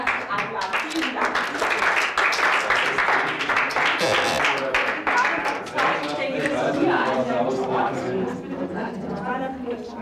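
An audience at an evening art event applauds, a dense, steady wash of many hands clapping that stays loud for the full stretch, with some voices mixed in.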